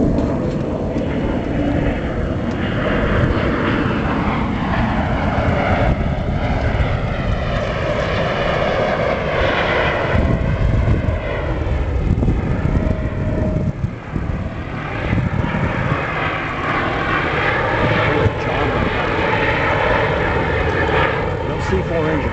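A USAF C-17 transport jet performs at the Cocoa Beach Airshow, its steady engine roar filling the scene while spectators talk and cheer close by.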